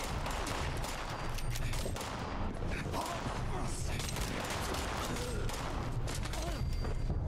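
Gunfire in Fallout 76, with rapid shots and bursts running steadily throughout amid a dense, busy mix of game noise.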